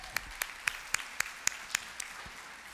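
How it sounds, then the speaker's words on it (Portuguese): A church audience applauds actors after a sketch, with about eight sharp, evenly spaced claps standing out over faint background clapping. "Uma salva de palmas para os nossos atores."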